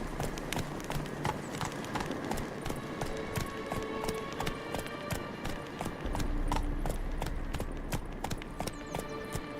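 Horse hooves gallop in a steady clip-clop rhythm while riding in The Witcher 3, continuous and fairly close, with ambient game sound beneath and the beat filling the whole stretch.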